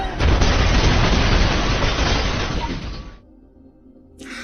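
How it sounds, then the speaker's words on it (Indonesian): A house blown apart by a bomb in the action film Peppermint: a loud, sustained roaring blast with crackling debris that rumbles on for about three seconds before falling away to near quiet, then a faint rise of sound. "Ketika sudah pergi cukup jauh, Riley pun segera meledakkan rumah tersebut."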